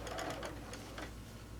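A sewing machine runs on quilt fabric pieces, a quiet rapid mechanical ticking and whirring that continues steadily through the short stretch.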